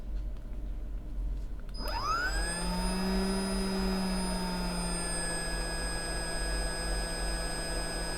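Hot air rework station blowing on an iPhone logic board at low heat, a sudden start into a steady close airflow hiss and fan whine that holds unchanged for several seconds.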